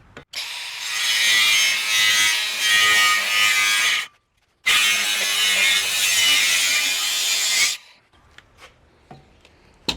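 Power tool cutting leftover sheet-metal building stock squared off for a sink backing, two loud continuous harsh cuts separated by a brief pause, followed by quieter clicks and handling.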